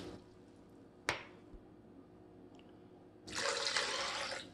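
Water is poured from a glass into a blender jar, a close, bright splashing gush lasting over a second at the end, after a quiet stretch with a sharp tap or click.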